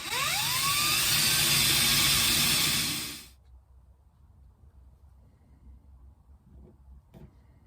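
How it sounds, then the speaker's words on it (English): A loud, steady whirring drill bores dowel pin holes in wood for about three seconds, then cuts off, leaving quiet room noise and a faint knock near the end. "So I'm going to drill a couple of dowel pins"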